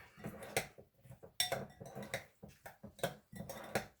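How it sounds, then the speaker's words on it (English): A metal utensil stirring food in a pot, scraping and clinking against the sides in an irregular rhythm of short strokes, close and fairly quiet with no talking. "Get that stirred up in there."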